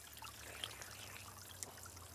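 Water trickles and splashes softly from an outdoor source as people drink from it, a faint continuous stream with a couple of small drips.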